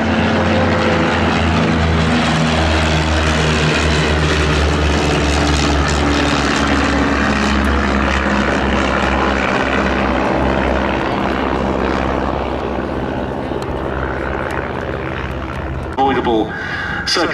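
Vintage piston propeller aircraft, a Chipmunk, a Bulldog and a Firefly, drone past at the Duxford air show, trailed by a Velis Electro. The engines hum loudly and steadily, then ease off, with a brief clatter near the end.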